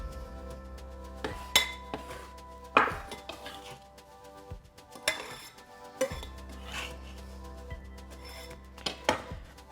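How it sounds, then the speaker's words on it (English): Herbs, garlic and capers are scooped into a bowl for a salsa verde, with scattered clinks and scrapes of a utensil against the dish among quiet pauses. "So into our bowl, I'm just going to scoop our herbs, garlic and capers."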